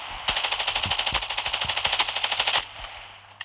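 A single sustained burst of rapid automatic gunfire in the mobile shooter Call of Duty Mobile, evenly spaced loud shots for about two seconds, then a fading tail with no talk.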